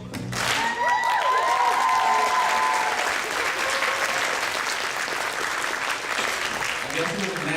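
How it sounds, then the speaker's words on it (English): An audience claps along at a Hmong New Year celebration, a loud burst of applause that swells and then gradually fades, with voices and music over it. "everybody clap your hands like this"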